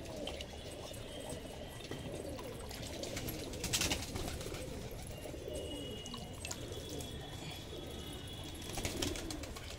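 Patiala pigeons and a few local pigeons coo softly at a loft in summer, with low murmuring calls and occasional fluttering over a quiet background.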